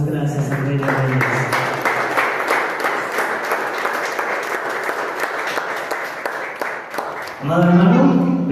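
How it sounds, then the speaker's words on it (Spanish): Congregation clapping hands during a church service, a loud, dense round of applause that holds steady for several seconds, then gives way to a voice speaking near the end. "Y con nuestras palmas le damos gracias al Rey de Reyes."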